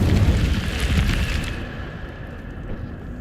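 A fire spell cast in Hogwarts Legacy erupts in a loud, roaring burst of flame, then trails off into a softer rumble that lingers.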